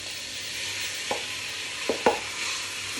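Caribbean soup ingredients being stirred in a pan, a soft sizzle running throughout and a few distinct knocks of the spoon against the pan, close and quiet, no talking.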